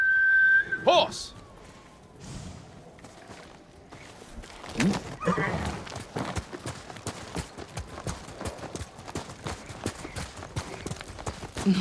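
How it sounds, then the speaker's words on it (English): A horse in the video game Ghost of Tsushima Director's Cut gives a short whinny near the start, followed by steady clip-clopping hooves in a snowy blizzard setting, with game dialogue and a whistle heard around it. "Horse!"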